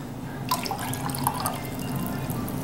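Water pours and drips into a sauce mixture of vinegar and peanut oil while cooking sesame chicken, a light splashing trickle with a few distinct drops, close and alone without talk.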